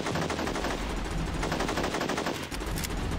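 Gunfire in the video game Unearthed: Trail of Ibn Battuta, a loud, dense and continuous automatic burst that rattles on without pause for several seconds, with no talk over it.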